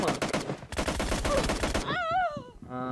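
Rapid bursts of PUBG Mobile gunfire crackle densely for nearly two seconds, then give way to warbling electronic game effects and a sustained tonal sound.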